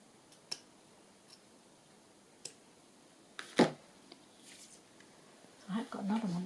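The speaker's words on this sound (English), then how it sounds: "I just cut a corner and see how it looks." Scissors cut the corner of a paper journal tag in a few sharp, close snips spread over several seconds, with soft rustling and handling noises toward the end.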